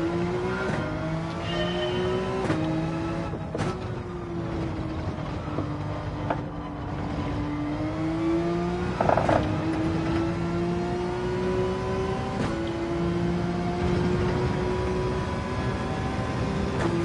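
A Porsche race car in Gran Turismo 7 drones at a steady high pitch and rises and falls through gear shifts and revving, at moderate loudness with no talk.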